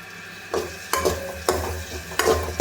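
Onions sizzling and being stirred in a hot kadai for a creamy red pasta, a steady sizzle broken by four sharp spoon scrapes against the pan at a slow rhythm, close up with no talking.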